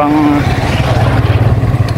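Buzzing small motorcycle-type engine like a pump boat motor, running close and loud with a steady pulsing throb throughout, a brief tonal whine at the start.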